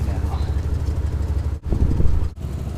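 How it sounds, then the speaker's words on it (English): A 1963 Dodge with a 330 engine cranks over steadily in a loud, continuous low rumble, broken by two brief pauses in the churning. "that was just cranking. It was most certainly turning over."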